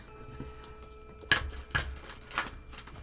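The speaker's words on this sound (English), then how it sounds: "I'm going to give this a really, really, really, really, really good card shuffle" Oracle cards are shuffled in a few quick riffling bursts against a quiet background, each crisp flutter lasting a fraction of a second.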